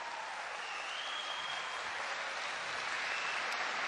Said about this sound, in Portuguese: Aplauda a verdade da palavra.